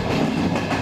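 Steady rumble and rhythmic clatter of a Ukrainian mobile military hospital train rolling along the rails, heard close and continuous.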